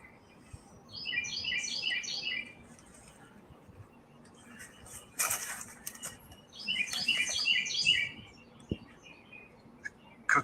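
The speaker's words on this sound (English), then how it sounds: "Some loud birds." Loud birds chirp in two bright, rapid bursts of twittering calls, with a rustle and a brief knock between them over quiet outdoor ambience.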